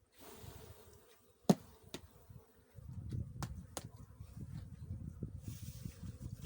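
Low buzzing of bees in a hive swells in after a few sharp clicks and knocks, a near, moderate drone continuing to the end.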